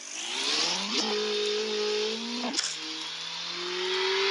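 A Porsche in a racing video game revs through its gears with rising engine whines, a shift around the middle and a sustained high drone afterward, no talking.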